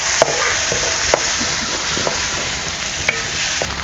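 Homemade onion-garlic masala fries with a steady hiss in a pan for chole, while a spoon stirs it with occasional sharp scrapes and taps.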